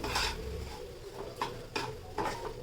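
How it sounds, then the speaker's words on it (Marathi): Semolina roasting in ghee over a low flame, stirred with a spoon that scrapes and clinks against the pan in several bursts over a soft background hiss. "तुपामध्ये रवा भाजतोय आपण"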